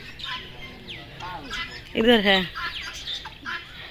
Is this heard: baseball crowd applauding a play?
no